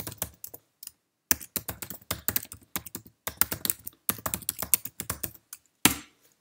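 Email address typed on a Mac desktop computer keyboard while signing in to Outlook: quick, close bursts of key taps in uneven runs with short pauses, finishing on a firmer keystroke, no talk.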